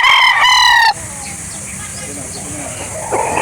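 A game fowl rooster crows loudly and close at a chicken market in Calauan, Laguna, one strident call that cuts off abruptly, leaving quieter market bustle behind.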